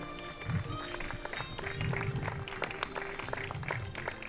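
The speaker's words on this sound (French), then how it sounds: "Messieurs, dames, les enfants, un tonnerre d'applaudissements pour Léo et Findus." Audience applause at an outdoor horse and bird show rises and falls in uneven waves of clapping, with tonal sounds running over it.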